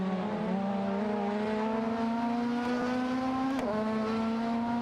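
Cars race in an AI-driven racing game, a Toyota Corolla and an Audi among them, their engines droning steadily at a sustained high pitch, loud and continuous.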